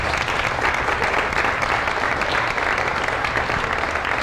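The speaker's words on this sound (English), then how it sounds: "let's give a really big hand of applause to all these wonderful children who put in so much effort" Audience applause for performing children at an orphans' evening performance, a dense, steady wash of many hands clapping that holds strong and even throughout without fading.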